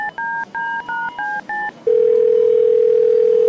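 Telephone keypad dialing a corporate office: six short two-tone DTMF beeps in quick succession, then a loud, continuous steady dial tone holding to the end.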